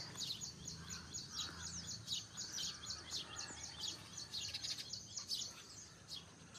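Faint, rapid chirping of sparrows, many quick overlapping tweets in a continuous busy chatter some distance away, no talking.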